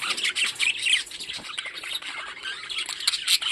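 Budgerigars chatter nearby in a busy flock, rapid chirps mixed with sharp squawks overlapping continuously and loudly.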